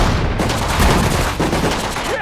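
Dense battlefield gunfire rattles through a Sudden Strike 4 World War II skirmish, rapid overlapping shots and machine-gun bursts packed loudly together without pause.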